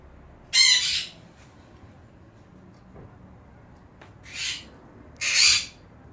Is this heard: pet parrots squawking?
yes